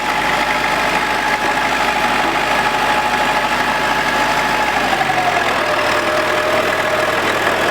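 A used tractor's engine runs steadily and loud, idling close by before its pitch shifts as the machine is put in gear and starts pulling away.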